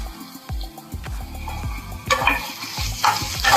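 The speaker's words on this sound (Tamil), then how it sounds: "அடுத்தது நம்ம கட் பண்ணி வச்சிருந்தோம்ல தக்காளி போட்டுக்கலாம்." Chopped tomatoes drop into a hot pan of sautéed masala for chicken gravy and are stirred, soft sizzling and frying under repeated scraping and clinking of a spoon against the pan.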